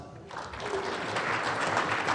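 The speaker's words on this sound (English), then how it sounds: "Another round of applause." Audience applause at a conference talk on open-source adoption in government, a dense wash of clapping that swells and holds steady, fairly loud and close, with no voices over it.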